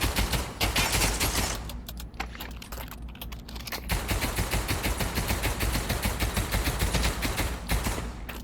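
Semi-automatic gunfire from a Steam VR game played on a Quest 2 comes as fast, rattling bursts of crisp shots that continue almost without pause.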